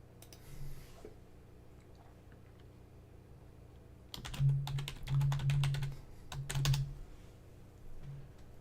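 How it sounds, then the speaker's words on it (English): Soft, scattered keyboard clicks come in quick bursts for a few seconds, with quieter stretches before and after. "when Michael was typing, it was doing the ... sound."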